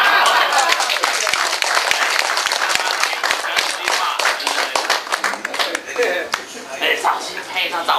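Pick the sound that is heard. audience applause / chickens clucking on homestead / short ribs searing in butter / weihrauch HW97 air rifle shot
audience applause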